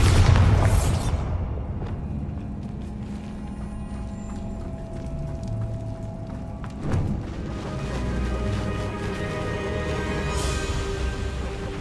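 A Bombarda blasting spell in the video game Hogwarts Legacy: a loud burst opens the clip, followed by a rumbling, crackling tail and a second softer thud midway under ongoing game ambience.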